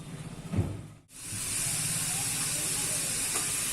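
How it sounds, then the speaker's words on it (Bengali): Coconut milk reducing in a pan while being stirred, with the oil starting to separate, gives a steady, close hiss and sizzle that runs unbroken after a brief quiet gap, with a few soft stirring knocks near the start. "নারকেলের দুধটা অনেকটা কমে এসছে আর তেলটাও একটু একটু বেরোতে আরম্ভ করেছে"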